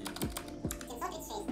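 Quick keystrokes on an awkward, uncomfortable computer keyboard click briefly beneath nearby talking.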